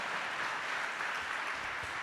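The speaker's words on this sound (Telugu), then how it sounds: "చప్పట్లు కొట్టి ప్రభుని స్తుతిద్దామండి" A congregation at a Hosanna Ministries church service claps hands in praise, a dense, steady wash of clapping held at an even level throughout.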